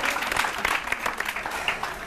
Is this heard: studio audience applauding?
yes